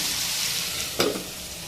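Vegetables fry in a pan with a steady close sizzle, broken by a short louder burst of crackle, as of stirring, about a second in; brief, no talk.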